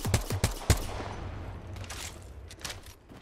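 Gunfire in a competitive video game match, a quick burst of several sharp shots at the start followed by a fading rumble and a few fainter, more distant shots, with no talk.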